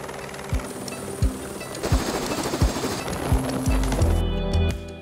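A helicopter in flight over steep vineyard slopes in Valle de Cembra, its rotor thumping in a fast regular beat beneath loud broadband engine and wind roar, close and continuous with no talk.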